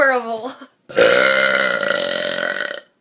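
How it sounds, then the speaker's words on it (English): After a brief vocal sound, a woman lets out one long, loud, sustained burp lasting nearly two seconds, close up. "That was my good morning burp"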